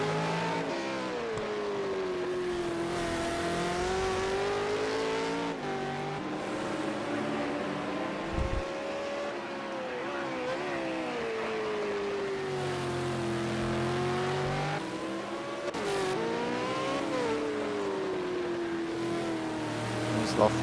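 A sim racing game car engine drones steadily through long gear pulls, pitch climbing and dropping with shifts, while a commentator talks throughout.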